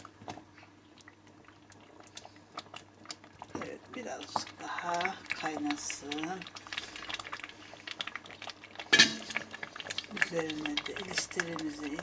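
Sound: pepper paste boiling in a pot

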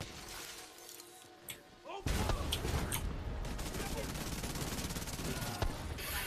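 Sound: grenade explosion in video game The Division 2

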